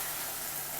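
Tomato puree cooking in a frying pan, a steady even hiss of sizzling, close and continuous for a brief moment with no talk.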